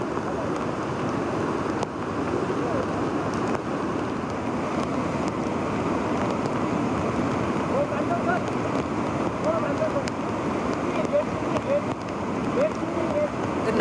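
Godavari river in flood at Nashik, a continuous broad roar of rushing water mixed with wind buffeting the microphone, steady and loud throughout.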